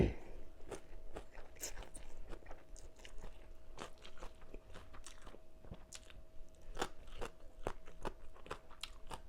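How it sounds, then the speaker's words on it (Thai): Crunchy green papaya being chewed close to the mic, steady crisp crunching bites repeating throughout, fairly quiet with no talk. "วนมะละกอกรอบกรอบ"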